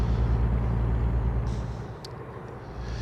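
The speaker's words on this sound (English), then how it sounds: "My truck sounds kind of growly tonight." A truck engine in American Truck Simulator, driving in Arizona, gives a low, rough, growling drone that holds steady and then eases slightly in level near the end, with no talk over it.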